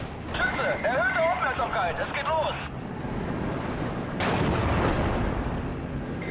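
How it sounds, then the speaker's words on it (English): Artillery fire in a World War II tank video game: a deep, rumbling boom from a distant barrage rises partway through over steady engine and wind noise, after a stretch where someone talks over a warbling radio-like tone. "I'm gonna try and stress some of it out with the artillery"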